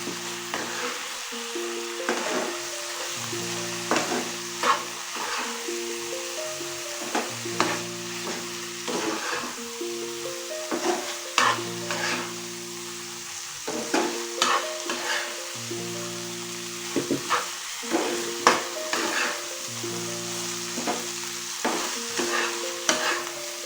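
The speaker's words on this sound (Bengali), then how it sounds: "একটু ভালো করে ওপর নিচ করে আমি পোস্তটাকে মিলিয়ে নিয়েছি" Poppy seed paste loosened with water is stirred in a pan, bursts of wet scraping and clacking strokes over a low sizzle, with a steady tonal hum running underneath.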